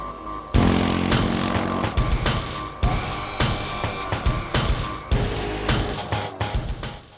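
A Royal Enfield Hunter 350's 349cc single-cylinder air-cooled engine runs loud and close, a steady broadband roar broken by repeated surges and dips as the throttle is blipped, with no voices.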